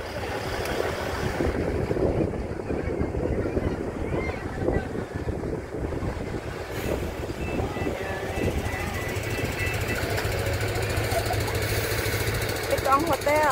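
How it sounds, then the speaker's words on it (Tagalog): Strong wind gusts by Ocean Park Tower in Hong Kong buffet the microphone in a steady roar, with rustling and low rumble throughout and people talking faintly underneath. "Ang lakas ng hangin."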